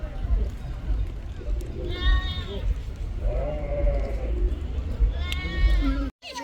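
Several bleats from goats rise over a steady background of chatter and crowd noise at a zoo in Moldova, with a few calls overlapping near the end.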